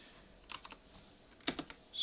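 Typing Visual Basic .NET code on a computer keyboard, a few quick clusters of light key clicks with short pauses between them, close and fairly quiet, no talk.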